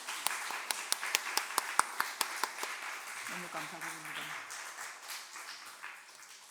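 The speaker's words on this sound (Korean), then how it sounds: "최태영 목사님께 감사의 박수를 모두 같이 하겠습니다" A church seminar audience claps in thanks for a pastor, a moderate patter of hands with a few sharp nearer claps, fading as a voice speaks over the tail.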